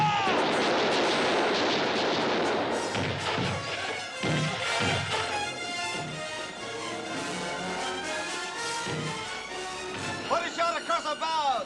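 Cannon fire from a ship in an old adventure film set on the Romney Marsh coast, with loud booming shots in sequence amid shouted commands and a busy, dense film soundtrack.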